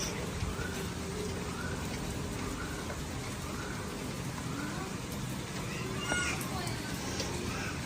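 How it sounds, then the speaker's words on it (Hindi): Steady rain falls continuously in Pakistan, a dense even patter filling the background, with faint distant voices of children now and then. "बारिश हो रही है।"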